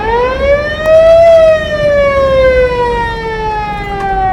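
A small fire truck's wailing siren sweeps up and then slowly falls in pitch, loud and steady over a low rumble of road noise, with no voices.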